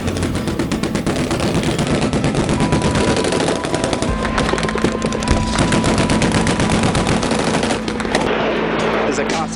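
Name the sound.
small arms gunfire during enemy contact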